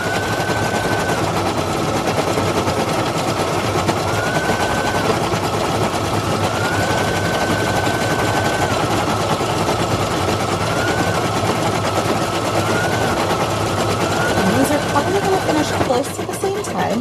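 Several sewing machines run at once in a working studio, a steady continuous mechanical drone with a faint repeating tonal whine throughout and a brief clatter near the end.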